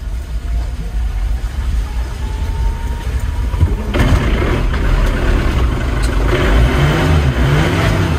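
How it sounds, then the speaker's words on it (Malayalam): A travel van's engine cranks and catches, shifting at about four seconds from a quieter rumbling idle into louder, sustained revving that holds steady and close to the end. "സ്റ്റാർട്ടായി വിത്തേ, സ്റ്റാർട്ടായി സ്റ്റാർട്ടായി വണ്ടി സ്റ്റാർട്ടായി."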